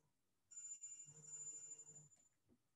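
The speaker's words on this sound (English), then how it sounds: "Sorry, I didn't mute my phone." A mobile phone rings during an indoor presentation on deploying deep learning models, a thin electronic tone sounding clearly for about a second and a half before cutting off, with no talking over it.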